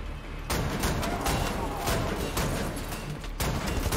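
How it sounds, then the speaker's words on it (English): Enemy gunfire in the shooter Wolfenstein: The New Order, a loud, dense burst of shots and crashing impacts that starts abruptly and roars on without a break for several seconds. "Okay, he's shooting back. He's shooting back."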